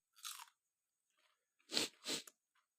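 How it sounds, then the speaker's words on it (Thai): Crisp crunching bites of fresh raw cabbage eaten alongside a meal of beef larb, one sharp crunch followed by two louder close chewing crunches, alone without talk. "โอ้กระลำกรอบๆเลย"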